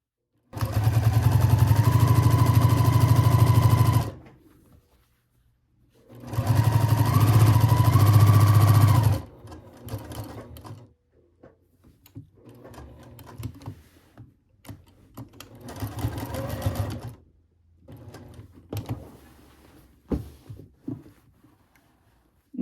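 A sewing machine stitches binding onto a pillow cover with a 1/4 inch seam, running in loud, steady bursts of a few seconds each, separated by pauses and softer handling noises.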